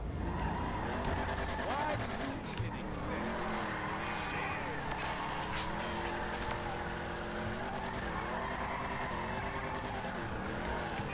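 Car in Grand Theft Auto V doing donuts, its engine revving continuously under long screeching tire skids whose pitch swoops up and down as it circles, with a person talking over it.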